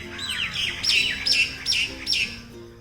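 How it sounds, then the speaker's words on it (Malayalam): Several birds chirp and tweet from tree branches in the early morning, with repeated bright, rising calls in quick bursts over a soft background of quieter twittering. "രാവിലെ ആകുമ്പോഴേക്കും ഒരുപാട് കിളികൾ ഈ മരച്ചില്ലയിൽ ചേക്കേറിയിരിക്കുന്ന അതിൻ്റെ സൗണ്ടാണ്"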